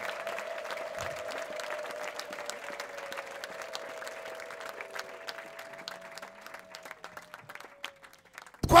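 Church congregation applauding steadily throughout, a dense continuous patter of clapping from a crowd, with a sustained tone running underneath and a brief louder burst at the very end.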